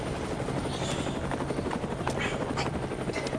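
Helicopters flying overhead above the Hollywood Hills, a loud, steady rotor drone that holds throughout, close and continuous, with faint scattered sounds beneath it.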